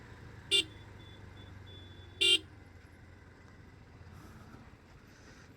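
Street traffic near a metro station in Bangalore, with two short car horn honks over a low engine rumble and road noise, fairly near, no talking.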